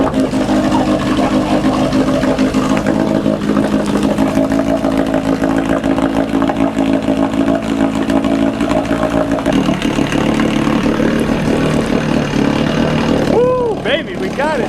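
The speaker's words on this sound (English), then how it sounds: "The motor was running for like 5 minutes and then it started smoking" Outboard motor on a jon boat running, a loud, steady close engine drone that shifts pitch partway through, with voices in the clip.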